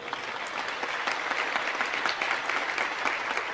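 An audience at a Jain sermon in Jabalpur claps together in a dense, sustained round of applause that stays even and fairly loud throughout.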